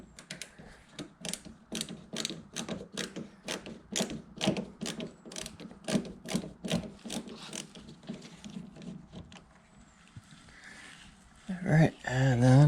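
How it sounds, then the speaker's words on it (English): Rapid ratcheting clicks from a hand tool unscrewing a fastener on a NB Mazda Miata tail light, a fast even train of close, crisp clicks over about ten seconds, ending with some handling noise. "And then just unscrew this up top here."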